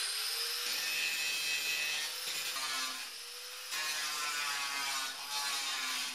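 A grinding wheel works down the raised heads of welds on the body panels of a BMW E30 325i Sport, a steady high whine with rasping grit that dips briefly a few times, close and continuous with no talk.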